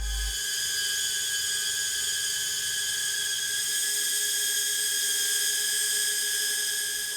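HOVERAir X1 ProMAX small drone flying nearby, a steady high-pitched whirring whine of tiny propellers, loud and constant throughout with no speech.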